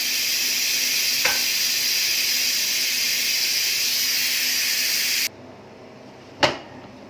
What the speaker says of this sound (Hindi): अब हम सीटी उठाएंगे